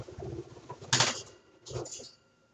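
Pet birds indoors give soft, low cooing calls with a quick flutter of wings in the middle, quiet and close in a room, with no voices.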